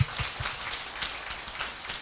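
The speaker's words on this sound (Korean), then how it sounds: "박수 한번 보내드릴게요." Audience applause at a success seminar, a fairly quiet patter of hands clapping in a hall, steady for about two seconds.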